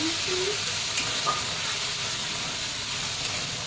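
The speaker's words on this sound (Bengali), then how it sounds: "হালকা করে ভেজে নেবো বেগুনটা" A steady, close sizzling hiss of brinjal frying in hot oil continues evenly throughout, with no voices.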